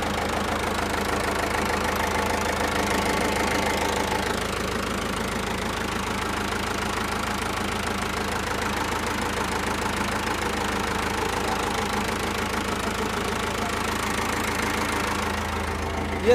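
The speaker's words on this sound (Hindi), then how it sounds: "बिल्कुल बहुत ही शानदार आवाज़ है इस ट्रैक्टर की।" A white Hindustan G 804 DI tractor engine idles steadily for a long stretch, with a loud, even, knocking diesel rumble heard up close and no talk over it.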